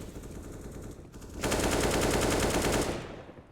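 Rapid rifle fire in Counter-Strike on the Nuke map at a 2022 IEM Dallas match, a dense continuous burst that swells loud in the middle and fades out, with no talk over it.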